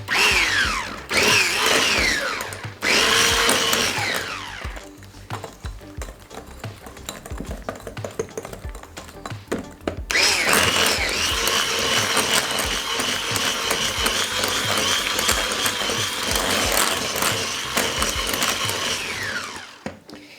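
An electric mixer whirs loudly and steadily through cake batter with milk, dipping quieter for a few seconds midway before running at full strength again, with no talking.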